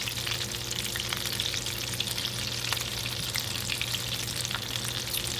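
Steady, loud sizzling of chicken taquitos frying in hot oil, a continuous crackling hiss with occasional sharper pops, close up and uninterrupted.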